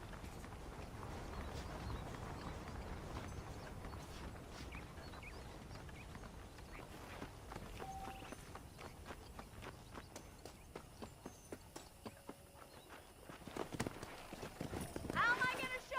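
Hooves of a horse ridden at a steady trot clip-clop through the open-world Western game Red Dead Redemption, quick rhythmic beats growing louder toward the end, with a character talking over them.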